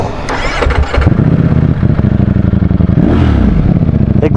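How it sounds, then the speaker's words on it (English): A stock-exhaust Ducati Streetfighter V4 motorcycle fires up with a sharp clatter, then settles into a loud, lumpy, pulsing idle close by, with one quick throttle blip that swells and falls midway. "This is a stock machine. It is louder than the newer generation motorcycles like the new Panigale V4."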